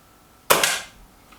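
A single sharp, close crack from a Kral Mortal air rifle fired at paper targets, with a quick decay into near silence.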